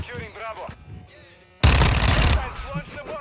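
Modern Warfare 2 multiplayer gunfire: a sudden loud burst of rapid shots lasting under a second, with a voice talking before and after it.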